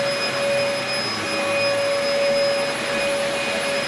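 A Dyson DC04 vacuum cleaner drones steadily at close range, its motor whine holding constant with bright tonal whistles as the machine is pushed over carpet, with no voices.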